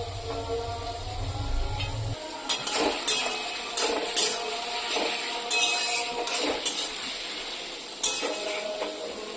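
Onions fry in a pan for a home-style chicken curry, with a sizzle under a run of clattering, scraping utensil and pan knocks that come in irregular bursts at close range.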